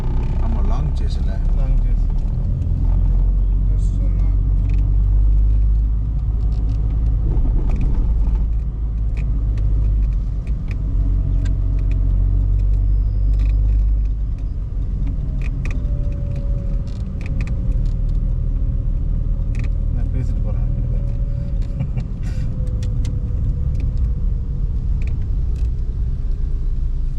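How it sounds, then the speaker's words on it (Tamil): Car engine and road rumble from a vehicle driving at night on the mountain road from Cumbum to Kumily, a steady low drone throughout with faint rattles and voices talking over it. "வண்டி தான் வருது. நம்ம வண்டி தான் அது."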